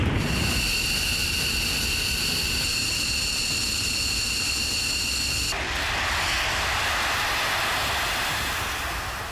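Fighter jets roar loudly in a steady, close engine whine with a high-pitched turbine tone that abruptly shifts to a broader rushing blast partway through, with no speech.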